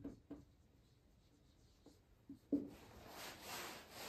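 Chalk or marker scratches briefly across a board while chemistry formulas are written, soft and intermittent in a quiet room, followed by a rising broadband hiss near the end.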